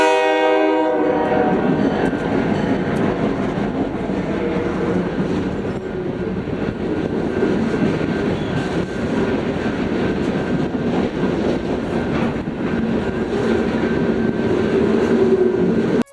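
Freight train YSC53 with a GP15-1 locomotive leading rolls past nearby, a horn blast opening over a steady, loud roar of wheels and cars that holds throughout.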